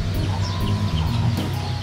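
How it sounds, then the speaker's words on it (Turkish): Chickens clucking steadily in a close farm setting, a dense run of short overlapping clucks lasting under two seconds, with pheasants also kept nearby. "Tavuk, sülün, hepsi var."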